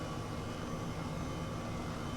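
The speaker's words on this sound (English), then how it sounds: "Let's get the helicopter under control a little bit more." Steady, dense engine drone of a helicopter flying in Microsoft Flight Simulator 2020, an unbroken loud hum with no other sounds over it.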